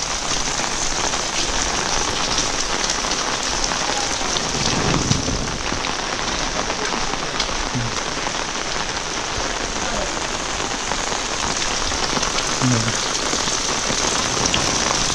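Heavy monsoon rain pouring over village farm fields in the Konkan, a loud, dense, unbroken roar of drops on surfaces with faint thunder and brief voices beneath.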